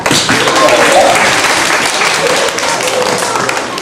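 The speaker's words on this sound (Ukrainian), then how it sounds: "Аплодисменти." Applause from an audience at a school March 8 celebration, steady dense clapping throughout, loud and close, with voices mixed in.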